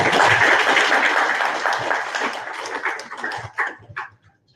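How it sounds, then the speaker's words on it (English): Dense audience applause at a felicitation ceremony during an election hackathon inauguration, loud and steady at first, then thinning into a few last claps before fading out. "Can we have some round of applause?"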